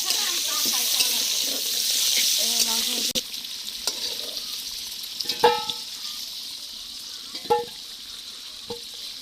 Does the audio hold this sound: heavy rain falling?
no